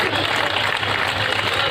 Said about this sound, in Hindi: तालियों में भी कंजूसी हो रही है सर